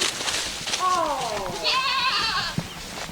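Goats bleat in a pen near the feeding area of a mission station farm, several wavering cries in sequence, one after another, fairly close, over outdoor background noise.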